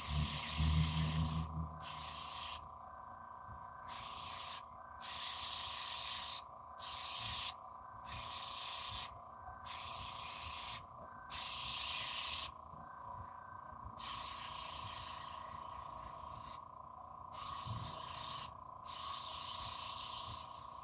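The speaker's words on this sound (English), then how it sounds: "I said the airbrush was gonna do me what?" An airbrush sprays in repeated bursts of close hissing, each lasting one to two seconds and separated by short silent pauses, with a faint steady hum underneath.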